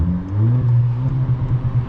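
A SEAT FR car idles in sport mode with a deep, steady engine burble heard up close, its low rumble pulsing slightly over two seconds with no talking.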